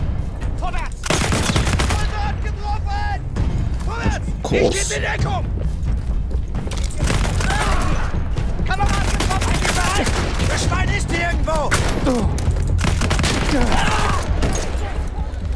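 Battlefield 1 combat with loud, rapid gunfire and machine-gun bursts clustered in dense volleys throughout, interspersed with booms and mechanical clatter, while voices talk over the shooting.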